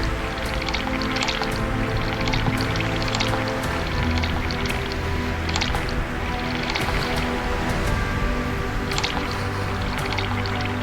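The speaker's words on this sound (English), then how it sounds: "We were just taking on a lot of water." Water sloshing and streaming into a boat in a sailing video game, a steady continuous wash of splashes and drips with sharper bursts scattered throughout, moderately loud and without talk.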